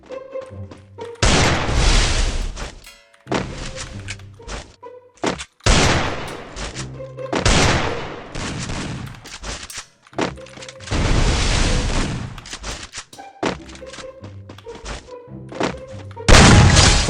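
Loud gunfire in the game Free Fire, with repeated bursts of sharp shots and thumping impacts separated by brief pauses, spread across the whole stretch with no one talking.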